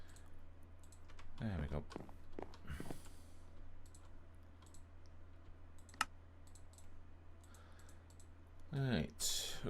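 Fingers tap on a computer keyboard in quick scattered bursts, with a few sharp isolated clicks, during a Minecraft modded session. Someone speaks briefly over the quiet keystrokes.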